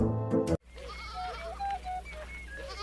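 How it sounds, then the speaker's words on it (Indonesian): Several goats bleat in short wavering calls across an open scene from the comedy film The Gods Must Be Crazy, following a brief loud burst at the start, with a steady low hum underneath. "Lalu ia melihat sekelompok kambing"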